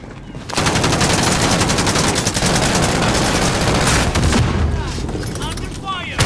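Heavy automatic gunfire in Call of Duty Modern Warfare, sustained rapid bursts after a brief quiet start, loud and continuous with scattered impacts and a voice briefly underneath.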